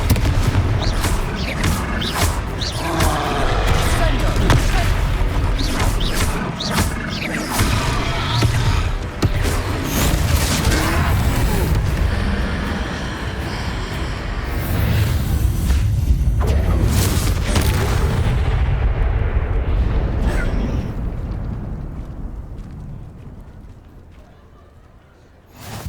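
Fire spell explosions from a Hogwarts Legacy battle crack and boom in rapid bursts amid combat thuds and impacts, loud and dense for a long stretch before fading out near the end.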